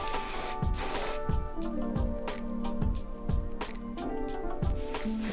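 Hair spray is sprayed onto a hairline in short repeated bursts, each hiss followed by a brief pause, close to the listener, with a faint mechanical clicking behind it.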